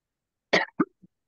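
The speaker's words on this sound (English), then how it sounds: "I'm coughing for a second." A person coughs during an online club chat, giving a sharp cough, a second shorter cough and a faint final one, close and isolated against silence.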